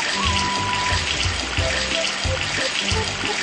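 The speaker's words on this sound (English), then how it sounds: "Tap on the water tap." Water runs steadily from a tap in the Hippo kids pirate video game, a continuous close gush with light game music underneath and no talk.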